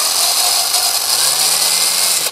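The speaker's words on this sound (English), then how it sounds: "I'm going to put the screw in the hole that I already made." Power screwdriver or drill driving a screw into the brake seal of a Farmall H tractor, a steady loud whirring that rises slightly in pitch midway and cuts off abruptly at the end.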